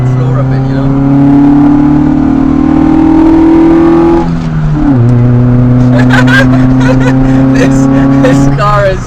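A Honda Civic EG with a D15 engine is floored. The engine note climbs steadily, drops briefly at a shift, then climbs again under full throttle, loud and close inside the car.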